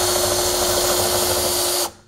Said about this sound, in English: You just kind of get your drill in there and slowly go